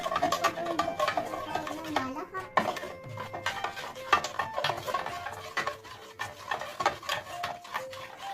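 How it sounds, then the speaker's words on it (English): Chocolate cake batter stirred with a spoon in a bowl, a quick run of clinks and scrapes against the sides, heard under a person speaking. "you have to mix it a little bit here"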